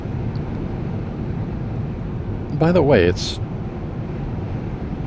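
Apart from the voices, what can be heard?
strong wind buffeting a car on the highway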